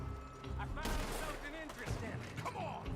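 Gunfire during a shootout escaping the mining town of Annesburg in Red Dead Redemption 2, scattered sharp shots mixed with game noise and a voice talking over it, fairly quiet overall.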